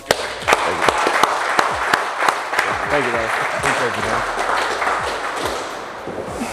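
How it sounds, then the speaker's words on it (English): Audience applause for a speaker at a business event, a burst of clapping with sharp hand claps that carries on under a voice thanking someone, then fades out. "Let's give him a round of applause."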